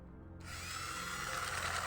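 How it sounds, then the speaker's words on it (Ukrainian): Electric mixer whipping egg whites for a sponge cake, a steady whirring drone that rises slightly as it begins, close and moderately loud with no talking. "Починаємо збивати білки."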